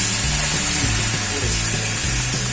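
Chilli powder hits hot oil in a tempering for masoor amti that already holds turmeric and black masala, giving a loud, steady sizzle that lasts the whole stretch without pause.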